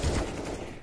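A short, dense burst of Counter-Strike gunfire during a competitive esports match, loud and continuous with no gaps between shots.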